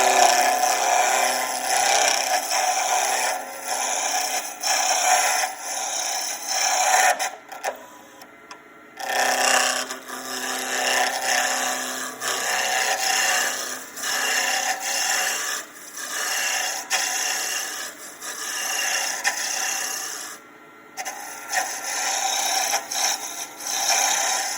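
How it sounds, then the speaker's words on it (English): A spindle gouge rounds a slimline pen blank on a wood lathe spinning at high speed, giving a continuous loud raspy cutting hiss that swells and dips as the tool moves, with a couple of brief pauses. "I'm going to use my spindle gouge just to round this off."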